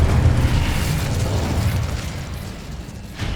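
An Incendio fire spell in the Hogwarts Legacy video game lets out a loud, roaring, whooshing blast that fades over a few seconds.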